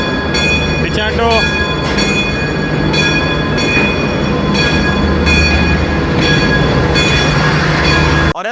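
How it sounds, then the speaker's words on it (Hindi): A Pakistan Railways passenger train pulls into Karachi City railway station, a loud steady rumble of wheels and carriages with a brief horn blast near the start and voices under the din. "अब इतने में हमारी जिक्रिया बहाउद्दीन ट्रेन भी आ गई"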